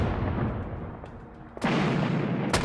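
Artillery fire at the Arras offensive of the First World War: two heavy, broad booms a second apart, each bursting out of a low rumbling background, with no voices.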